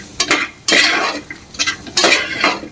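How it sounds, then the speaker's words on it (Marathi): Potatoes being stir-fried in a pan, with loud, close bursts of a utensil scraping and stirring that come in several uneven strokes, each lasting under a second. "आणि बटाटा परतून घेऊ."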